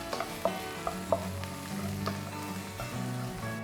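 Coconut pieces, dried red chilies and curry leaves fry in hot oil for a clam meat dish, giving a close, continuous sizzle with a few sharp clinks of stirring early on.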